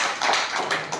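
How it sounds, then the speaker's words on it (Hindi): A group of schoolchildren at a government village school clapping for their teacher, a short, loud burst of rapid overlapping claps close by. "अब अपने मैम के लिए सारे बच्चे इधर जोरदार ताली बजाओ एक बार"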